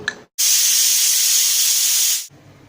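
Close, loud hiss of a pressure cooker venting steam while cooking mutton, a steady jet lasting about two seconds that cuts off sharply, with quieter kitchen noise around it.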